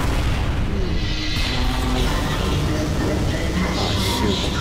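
A huge explosion from the Skibidi Toilet series as YouTube gets blown up, a loud, dense roaring rumble with crackling debris that fills the whole stretch without letting up.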